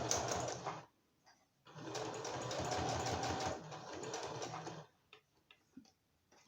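A sewing machine stitches a fabric notebook cover in fast, steady bursts of mechanical whirring with short pauses between runs, close and clear with no talking.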